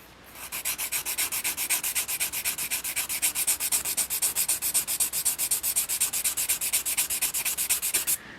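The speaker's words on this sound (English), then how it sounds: "Just sanding down this edge here." Rhythmic hand sanding along the edge of a laminated wooden model propeller, fast even back-and-forth strokes continuing steadily for about eight seconds, close and fairly loud.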